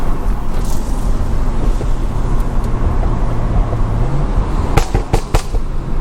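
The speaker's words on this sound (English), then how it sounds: "Put my window down, you guys can hear the car a little better." A Stage 2+ BMW engine through an open car window while driving, a steady loud rumble over road noise with a rising rev and several sharp pops or crackles near the end.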